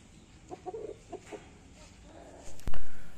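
A few soft clucks from ELBA chickens about 60 days old, close by in a quiet yard on a farm in Jember, East Java, followed by a brief louder rustle or bump near the end.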